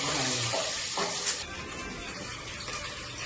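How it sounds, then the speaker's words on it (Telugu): Water runs from a kitchen tap while biryani rice is being prepared, a steady close gush that starts loud and softens slightly, with no talk. "నీళ్ళు వచ్చాయి"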